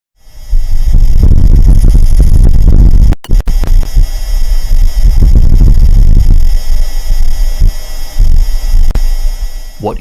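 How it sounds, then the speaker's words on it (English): A gust of wind on the Martian surface, recorded by the Perseverance rover, rumbles and buffets as loud low-pitched turbulent noise, with a sharp dropout and clicks near the middle and gusting pulses throughout. "What you just heard is an actual gust of wind on the surface of Mars."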